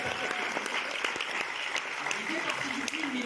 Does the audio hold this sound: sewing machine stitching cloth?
no